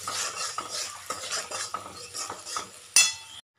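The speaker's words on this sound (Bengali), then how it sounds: "এবার মশলা দিয়ে কষাচ্ছি" Potatoes sautéed with spices in a pan, a spoon scraping and clinking against the metal in quick repeated strokes over a light sizzle, ending with one sharp clank before silence.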